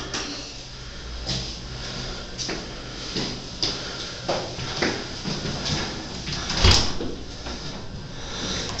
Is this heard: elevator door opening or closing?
yes